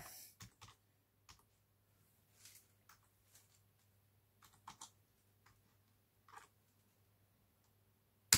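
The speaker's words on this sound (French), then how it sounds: "Donc je vais taper mon mot de passe." A password is typed on a computer keyboard in a quiet room, with scattered soft key clicks arriving in small irregular bursts and pauses and a faint low hum underneath.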